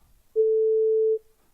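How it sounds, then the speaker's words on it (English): A steady sine wave test tone from a synthesizer, a single pure pitch held for about a second at moderate volume, then cut off cleanly, with near silence before and after. "Sorry for the sine noise."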